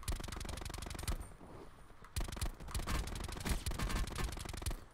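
Rapid automatic gunfire in a video game, dense bursts of loud repeated shots with a short pause in between, close and without talk.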